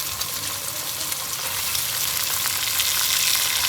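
Lentils tipped into a pot of browned, fried vermicelli for Egyptian koshari, giving a steady, loud, close sizzle and frying hiss that runs unbroken and alone, with faint stirring.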